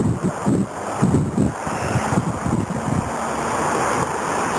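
Water pouring over a concrete drop structure on Los Gatos Creek, a steady broadband rush with gusts of wind buffeting the microphone, loudest in the first half and settling into an even roar.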